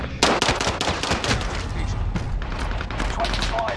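Loud, rapid bursts of automatic gunfire from Call of Duty: Modern Warfare, cracking repeatedly over a dense, steady battle din, with players talking over the shooting.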